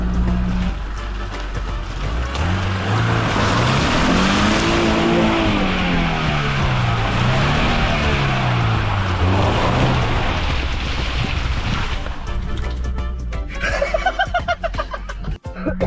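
A Honda CR-V 4x4 engine revs hard while climbing a slope off-road, loud and close, rising and falling for about twelve seconds before easing off amid scraping and rattling.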